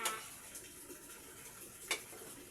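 Suman simmering with evaporated milk in a pot being stirred, a soft, faint scraping and bubbling with two sharper utensil knocks at the start and near the end.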